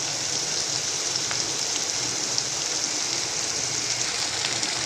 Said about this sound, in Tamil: இஞ்சி பூண்டு பேஸ்ட்டு ஆட் பண்ணியாச்சு. இன்னும் கிண்டி விட்டு காமிக்கிறேன்.